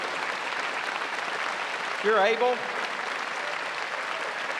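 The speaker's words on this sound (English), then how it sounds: "Let's give all of those persons, past, present, connected with the armed forces, a round of applause" Veterans at an honors convocation ceremony receive steady applause from the audience throughout, with a voice briefly speaking over it.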